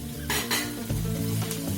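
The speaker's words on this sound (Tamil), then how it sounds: "வெங்காயம் நல்லா வதங்கிருச்சு" Small onions sautéing in a pan with curry leaves and coriander for uppu urundai, a loud close sizzle with repeated spatula strokes and scrapes against the pan.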